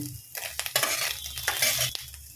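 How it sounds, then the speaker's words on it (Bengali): Fried eggs are cut into large pieces with a spatula in a frying pan, giving close, irregular scraping and tapping strokes over a steady oil sizzle. "ডিমগুলোকে আমি খুন্তির সাহায্যে ঠিক এরকম বড় বড় করে কেটে নেব।"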